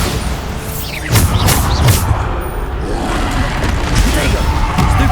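Explosive blasts from the Bombarda spell in the video game Hogwarts Legacy, a few loud booming bursts over continuous game noise and ambience, with a voice talking in between.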